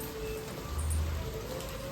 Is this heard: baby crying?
no